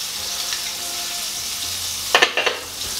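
Prawns frying in a hot pan give a steady broadband sizzle, broken near the end by a few sharp clicks and pops as they are moved or flipped.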